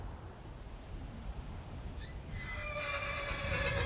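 A horse in the Skyrim video game, near the town of Morthal, lets out a loud, drawn-out whinny in the second half, rising over a steady rushing ambient background.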